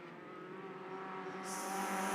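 Autograss race cars at West Waterford, Round 1 of the British Autograss Series, rev and accelerate off the line as the bungee lifts, their engine note rising and swelling over about two seconds, heard from a distance without voices.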